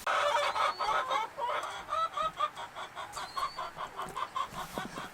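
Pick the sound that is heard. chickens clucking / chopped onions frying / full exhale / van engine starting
chickens clucking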